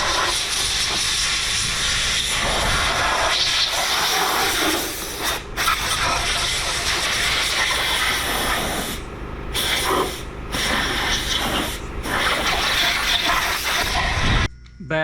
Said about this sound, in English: We'll take the air hose to it.